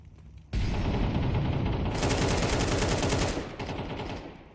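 Rapid, dense gunfire from a pre-fire in a video game esports match, a United21 playoff between XI Esports and Prestige. The shots burst in loud and close, rattle continuously for about three seconds, then thin out toward the end.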